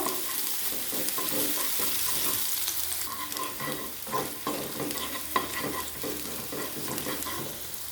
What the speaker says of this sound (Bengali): এবার দিয়ে দেবো কুচিয়ে রাখা পেঁয়াজ পেঁয়াজটা একটু হালকা ভেজে নেব